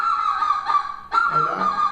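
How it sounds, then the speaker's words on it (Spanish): Geese honk loudly and close by, two nasal blaring calls with a short break between them, no talk over them. "el sonido de los gansos"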